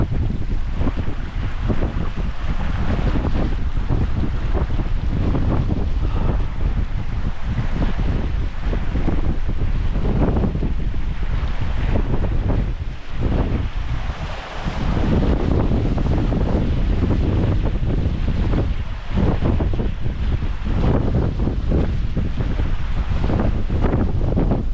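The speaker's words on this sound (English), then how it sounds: "That wind, oh look at that, the wind is now whisking it up in the air." Strong wind roaring at the top of Hell Gill Beck waterfall, whipping spray into the air, a loud continuous buffeting rush with gusty surges and a brief lull midway, no voices.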